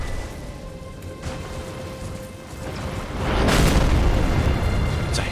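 A giant archer's huge arrow slams into the ground in Elden Ring, a deep rumbling boom with a crunching burst swelling over a low ambient backdrop and lingering loudly.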